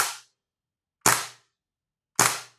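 Three sharp gas-blowback shots from a polymer Tokyo Marui airsoft pistol with hard recoil kick, evenly spaced about a second apart, each a crisp snapping crack with a brief metallic tail, loud and close with no talking.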